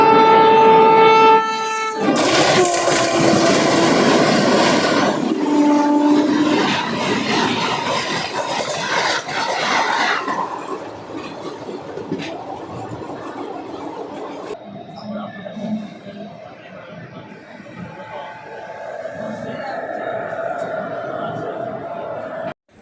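The Gowtami Express passenger train, packed during the Sankranti rush, sounds a loud horn at the start. Its steady roar and rattle on the rails carries on behind, with passengers talking over it.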